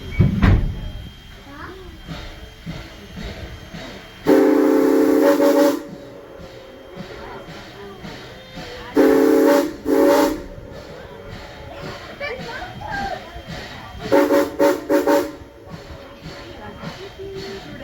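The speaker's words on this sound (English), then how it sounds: "going to blow the whistle" Strasburg Railroad steam locomotive #89 sounds its whistle in three separate loud blasts, the last one broken into short pulses, between stretches of background chatter and train noise, with people talking around it.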